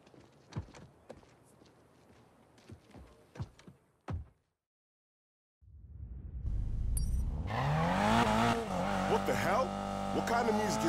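A car engine in Need for Speed Payback starts up after a short silence and roars loudly, revving steadily through the end, following scattered clicks and thumps earlier.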